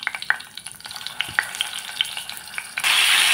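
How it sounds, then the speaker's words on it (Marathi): Bitter gourd pieces tipped into hot oil with crackling cumin seeds, setting off a close, steady sizzle with scattered pops and stirring clicks that swells into a louder, denser hiss near the end. "त्याच्यात आता मी टाकते कारले।"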